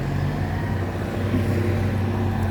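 A large Kubota M108 tractor engine hums and rumbles steadily at close range, a constant low drone with no speech.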